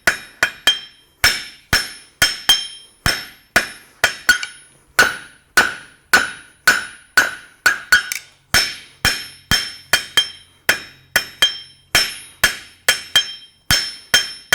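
A blacksmith forges down a hot steel bar with a hammer, ringing metallic blows landing in a fast, regular rhythm, close and sharp, with a few brief pauses between runs of strikes.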